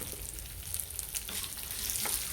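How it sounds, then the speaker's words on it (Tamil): Crushed garlic cloves fry in a pan with a steady, close sizzle and crackle, along with small scraping stirs, fairly quiet and without speech. "இப்போது ஒரு பத்து பல் இடித்த பூண்டை போட்டு நம்ம வறுத்துக்கிறோம்"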